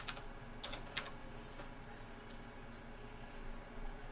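Typing on a computer keyboard while entering a number into a network simulation program: a few scattered, faint clicks and taps close by over a steady background hiss, with no talking.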